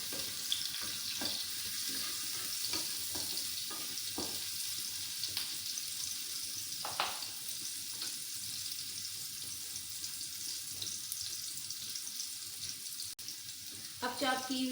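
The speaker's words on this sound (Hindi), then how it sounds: "मैंने चॉप किया हुआ 1 खाने का चम्मच लहसुन ऐड कर दिया है। 1 मिनट के लिए इसको फ्राई करते हैं।" A spoonful of chopped garlic frying in oil in a pan, a steady soft sizzle with occasional clicks and stirring taps throughout.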